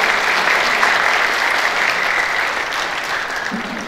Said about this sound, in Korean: 여러분 다시 한번 감사의 박수 보내주시기 바랍니다